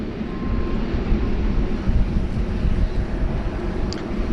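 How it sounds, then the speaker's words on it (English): A Falcon 900 private jet lines up on the runway at Sydney Airport, its engines a steady, fairly loud broadband rumble that holds evenly throughout with no talk. "Charlie Alpha Delta, a Falcon 900, down there at holding point Golf. Just clearance to line up on the runway."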